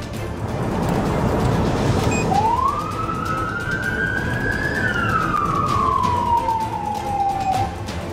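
A police car siren rises into a long sustained wail, holds, then slowly glides back down over steady road and engine noise, loud and fairly close.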